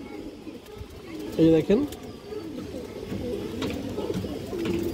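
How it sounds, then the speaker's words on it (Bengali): A male high-flyer pigeon coos close by in a few soft, throaty bursts while someone talks over it. "খুব সুন্দর একটা নর কবুতর।"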